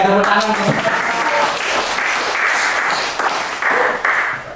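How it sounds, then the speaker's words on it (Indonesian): A classroom of pupils claps for a student group, loud, fairly rhythmic clapping from many hands with a voice or two mixed in near the start, continuing steadily before tapering slightly at the end. "Oke, tepuk tangan."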